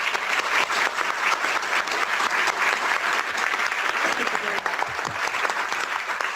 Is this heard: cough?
no